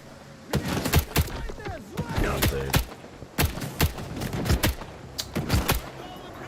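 Video game gunfire, a run of sharp, loud shots in quick bursts spread across the clip, with a voice talking between the shots.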